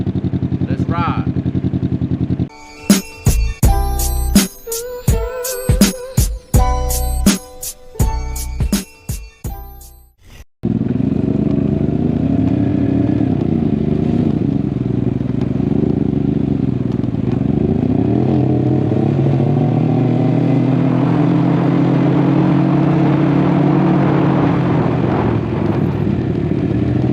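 Can-Am Ryker three-wheel motorcycles ride out in Brooklyn: a stretch of clattering, rattling bursts gives way to a loud, steady engine drone that rises and falls in pitch as the machine accelerates, with voices talking over it.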